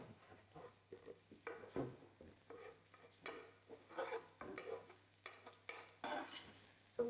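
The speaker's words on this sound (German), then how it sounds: "die Zwiebeln anschwitzen." Onions and garlic sweating in a hot pan, a soft steady sizzle broken by repeated stirring scrapes and clinks at close range, with no talk.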